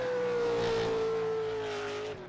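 A V8 Supercar race car at Phillip Island during qualifying revs hard with a strong, sustained engine note that slowly drops in pitch as it works through the gears, loud and close, fading slightly at the end.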